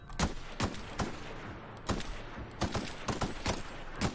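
Rapid gunfire from a weapon in The Outer Worlds video game, sharp shots cracking in irregular bursts and single reports across the clip, loud and close over a low background rumble.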